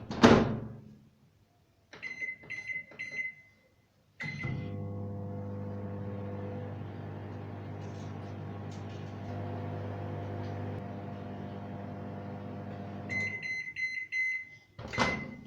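A few beeps, then a microwave oven hums steadily for about a minute melting cheese on a pizza before beeping again at the end; a door clunks at the start and finish.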